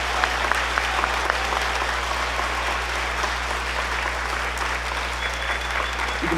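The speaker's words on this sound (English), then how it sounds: "Let's have one more round of applause for this amazing group of students." Steady clapping from a concert audience at a school band performance, continuous and even over a low electrical hum, with no pauses.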